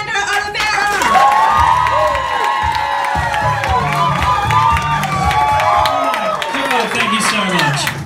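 A comedy show audience at a stand-up heat in Canberra breaks into loud applause and cheering, with whoops and shouts over steady clapping that runs for several seconds, near and full.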